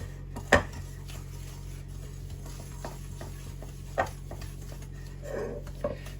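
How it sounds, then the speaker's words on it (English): A spoon scraped and knocked against the edge of a mixing bowl while creaming butter for a Victoria sponge cake, with a few sparse clinks spread over a quiet background. "Now you can use a spoon like so to rub against the edge of the bowl and bring it together"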